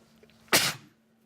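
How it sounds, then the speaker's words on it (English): A single sharp human sneeze bursts out once, brief and fairly close, in an otherwise quiet indoor setting with a faint steady hum underneath. "And I might have to sneeze."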